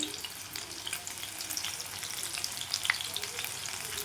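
Meal maker pakodi batter frying in hot oil over low heat, a dense bubbling sizzle with tiny crackles, steady and fairly quiet.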